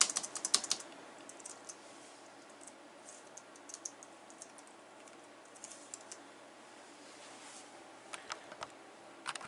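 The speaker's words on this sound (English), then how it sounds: "Now, I do have to type in my password" A password is typed on a computer keyboard in short bursts of crisp key taps, a quick cluster at the start and more near the end, quiet and close with near silence between.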